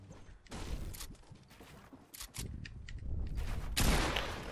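Bursts of gunfire in a Fortnite 1v1 match come as several separate rapid volleys with short gaps between them, fairly quiet overall and heard alone.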